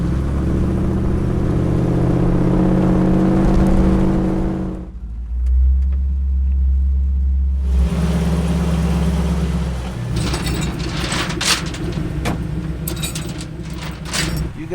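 A full-size four-door diesel truck rumbles off road near drought-hit Lake Powell, its heavy low engine note dropping away briefly before it revs back up with rattling and clattering.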